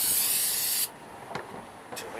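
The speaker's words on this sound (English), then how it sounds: "This is brake cleaner" Brake cleaner sprays from an aerosol can onto a Mercedes-Benz GL (X164) transmission part in a loud, close hissing burst that cuts off sharply, followed by a couple of faint short sounds.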